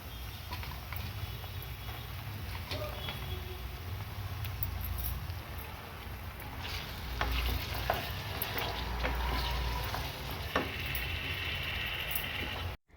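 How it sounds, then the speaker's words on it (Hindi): Chicken pieces fry with onion in a pan, giving a low, steady sizzle broken by scraping stirs and scattered pops, moderately close and without talk. "सिंपल सी प्याज डाल करके और चिकन डाल दी थी मैंने"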